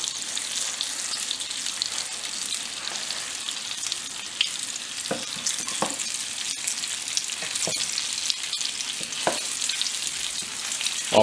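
Red mullet fries in a pan over low heat, giving a dense, steady sizzle with occasional crackles and clinks.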